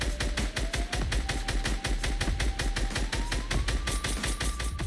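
Assault rifle fire, such as the SCAR, rattles in the Fortnite video game as a loud, unbroken stream of rapid shots lasting several seconds, with no talking.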